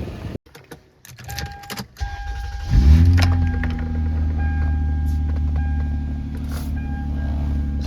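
A Toyota Avalon of the 2000–2004 generation, with a valve cover seeping oil, cranks briefly and catches after some clicks and rustling, then settles into a steady, smooth idle held at slightly high revs, close and fairly loud.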